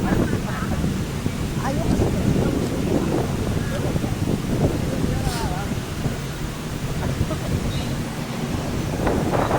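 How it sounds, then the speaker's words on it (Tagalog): Strong wind buffets the microphone continuously at a hilltop glass walk at Monte Maria Shrine, roaring and gusting over distant surf, with faint voices underneath. "Hangin."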